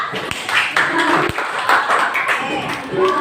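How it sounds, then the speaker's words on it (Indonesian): A classroom group claps together, a short burst of scattered hand claps mixed with voices over a few seconds. "Tepuk tangan untuk kita"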